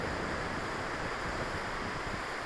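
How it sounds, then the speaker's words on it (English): Steady wind of about eight miles an hour buffeting the microphone outdoors while a Holy Stone HS110 drone is flown, a constant broadband rushing with no talk. "I got about a 8 mile an hour wind I'm fighting."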